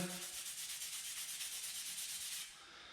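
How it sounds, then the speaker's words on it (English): Steady, harsh scrubbing of a Scotch-Brite pad rubbing back and forth across drilled metal of a 4L60 transmission part to remove burrs for about two seconds, then it stops. "I'm just going over with some Scotch-Brite to remove any burrs"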